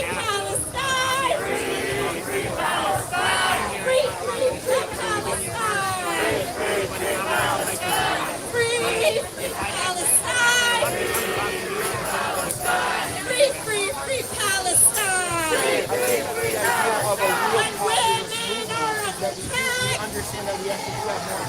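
Dense crowd chatter at a street protest during the Democratic National Convention in Chicago, many overlapping voices forming a steady, continuous babble with no single speaker standing out.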